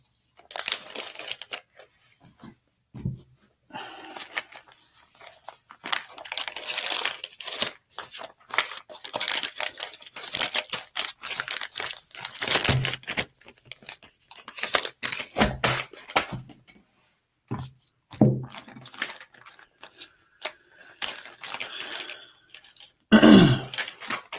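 Playing cards from a board game being slid into a plastic bag, giving close crinkly rustles and crackles in irregular bursts separated by short quiet gaps.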